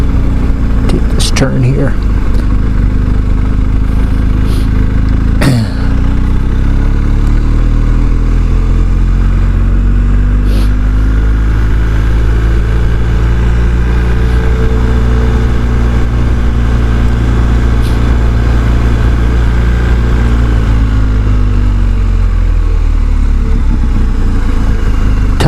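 Motorcycle on a windy road along the Continental Divide route, engine droning steadily throughout with a rising and falling pitch as it turns, wind rumble underneath and someone talking over it.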